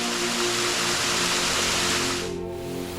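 A constant rushing roar of falling water from the Three Sisters waterfall, about three metres high, at Zvenyhorod in the Dniester Canyon, steady and fairly close, easing slightly toward the end.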